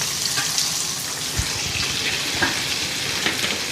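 Onions frying in a pan for a spinach (palak) fry, an even close sizzle with scattered spatula scrapes and knocks.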